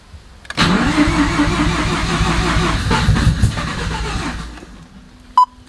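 A car engine fitted with a Holset turbo cranks and catches, then runs loud and rough at close range for several seconds before cutting off abruptly, with a brief sharp click near the end.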